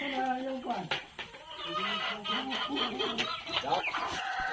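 Black Australorp chickens cluck and squawk close by during delousing and bathing, mixed with people talking over them throughout.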